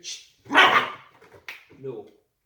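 A dog barks in a few sharp bursts at the door, loud and close, with short pauses between barks and a softer whimpering yip near the end.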